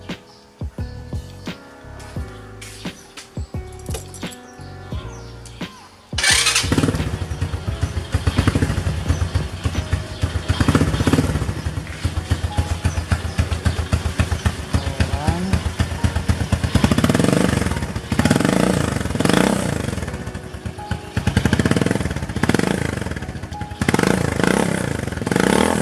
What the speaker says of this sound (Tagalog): So ngayon start natin, then pakinggan natin kung gaano kalakas tong pipe na to.